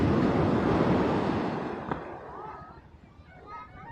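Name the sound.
sea waves around fishing boat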